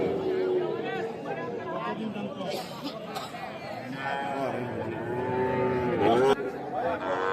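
Young calves mooing at a busy rural cattle market, several drawn-out moos near and farther off over a constant murmur of crowd chatter and nearby talking.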